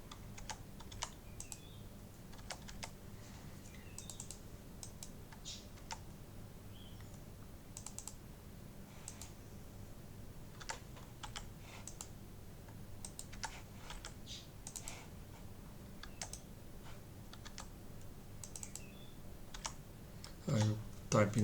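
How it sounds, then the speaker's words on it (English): Fingers type on a computer keyboard in quick irregular bursts of close clicks over a low steady hum, with a few louder taps near the end. "I type in values"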